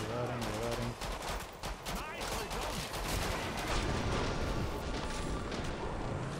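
Rapid, dense gunfire from a Killing Floor 2 firefight, with overlapping shots and bursts running continuously at close range, a voice talking over part of the din.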